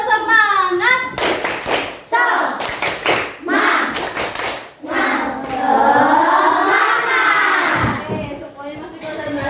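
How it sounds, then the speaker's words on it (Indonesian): A classroom of children clapping a rhythmic spirit clap in quick patterned bursts, with a teacher and pupils chanting along loudly over the claps. "Tepuk semangat."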